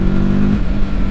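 A TVS Apache RTR 310 motorcycle engine revs under a pulled throttle, a steady close, loud mid-pitched drone holding for about a second with no speech.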